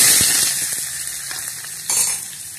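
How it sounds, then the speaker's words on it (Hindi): Steady hissing sizzle of carom seeds frying in hot oil, loud and close, with a few faint clinks and stirs, briefly swelling near the end. "मैं अजवाइन में छौंक रही"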